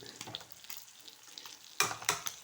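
Fish sizzles in a frying pan for a fish curry, a soft crackle with light stirring scrapes, then a louder burst of spitting oil near the end.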